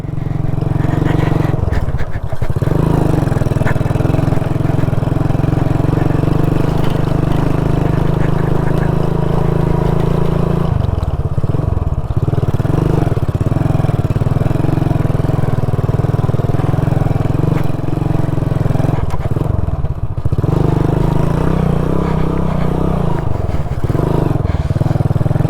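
A modified Hero Splendor motorcycle runs steadily in second gear, its engine note a loud, continuous low drone with slight rises and dips throughout, close to the listener and with no talk over it.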